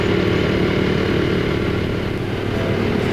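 A Honda CT125 Hunter Cub motorcycle riding along a road in rural Oku-Aizu, Fukushima, its small engine holding a steady, even drone close up with no talking.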